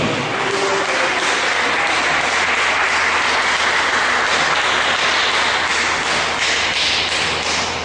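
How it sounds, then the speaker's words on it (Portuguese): Congregation at a church afternoon service clapping steadily and loudly for about eight seconds, a dense unbroken wash of applause filling a large room with no talk on top. "Dê uma salva de palmas ao Senhor."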